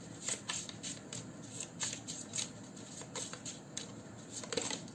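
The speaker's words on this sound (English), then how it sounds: "let's just shuffle the cards and see what comes up." Tarot cards are shuffled by hand in quick, crisp riffling bursts, a close, soft flapping patter repeating over several seconds without speech.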